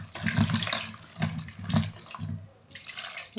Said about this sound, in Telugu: వాటర్ తగినన్ని వేసుకోవాలి, కొన్ని వేసుకోండి.